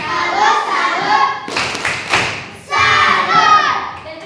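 A classroom of children performs the 'tepuk salut' clapping chant, chanting together, then breaking into a short burst of sharp rhythmic claps and thumps before the chanting resumes.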